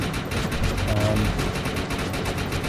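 Rapid automatic gunfire from the shooter game Defiance 2050 rattles in a dense, continuous stream of sharp reports, loud and close throughout.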